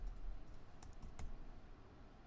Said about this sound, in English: All you have to do is highlight that and type in